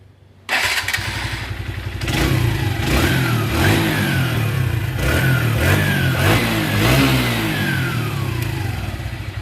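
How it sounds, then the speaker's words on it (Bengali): A rebuilt motorcycle engine, fresh from a full overhaul with new rings and piston, starts up and runs close by, settling into a steady idle broken by repeated throttle blips that rise and fall in pitch. "তো এখন আপনারা ইঞ্জিনের সাউন্ড শুনবেন।"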